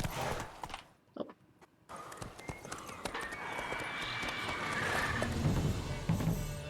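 The horse Roach clip-clops along in the video game The Witcher 3, with steady hoofbeats on the ground, a short pause, then continued trotting amid ambient game sounds.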